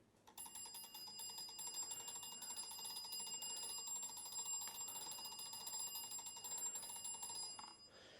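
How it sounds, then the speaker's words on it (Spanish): An old telephone magneto dynamo is hand-cranked, generating current that rings its bell in a steady, continuous metallic ringing and ratcheting clatter lasting several seconds, close and fairly loud, with no talking. "es una dinamo que se utilizó antiguamente para el tema de los teléfonos, y vamos a ver cómo funciona generando corriente eléctrica y alimentando este timbre de aquí"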